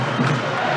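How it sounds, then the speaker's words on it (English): Football crowd at an England vs Hungary Nations League match, a steady broad roar of many voices filling the stadium, continuous and fairly loud with no single voice standing out. "You can hear the crowd."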